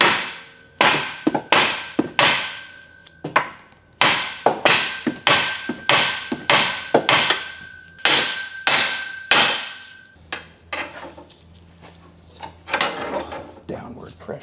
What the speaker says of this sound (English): that knuckle is a lot harder to hit where it's located